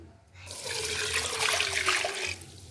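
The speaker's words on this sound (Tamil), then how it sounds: "இப்போ நம்ம புளிஞ்சி வச்சிருக்கிற இந்த இரண்டாம் பாலை ஊற்றுவோம்" Second coconut milk pours steadily into a cooking pot for anchovy fish milk sodhi, making a continuous splashing liquid rush that swells and then tapers off, with no talking.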